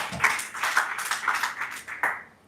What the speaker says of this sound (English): Can I clap for border again?